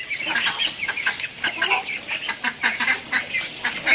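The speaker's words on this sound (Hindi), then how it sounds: "वो देखे लड़ पड़ी डक्स आपस में" Ducks squabble over feed they are eating off the ground, giving rapid, overlapping quacks and squawks close by. Other farm fowl are also present.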